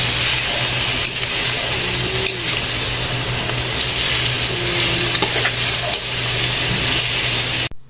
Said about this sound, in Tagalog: Ilalagay na rin natin itong chicken at isasangkot siya muna natin.